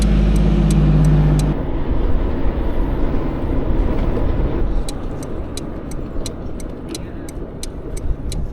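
A delivery scooter cruises along a city street in Sweden, its steady engine and road noise loud and continuous, with a sharper low hum at the start and regular faint ticking throughout.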